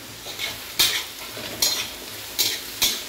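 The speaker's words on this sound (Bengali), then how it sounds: "এই দেখো আমি পেঁয়াজ ভাজছি" Sliced onions frying in oil in a pan, a steady low sizzle punctuated by four sharp scraping strokes of a utensil stirring against the pan.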